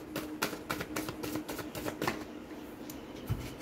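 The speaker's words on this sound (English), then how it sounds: "I'm going to put them all back and keep shuffling" A tarot card deck being shuffled by hand, with a run of quick papery riffle bursts in steady rhythm, close and moderately loud, easing off toward the end with a soft thump.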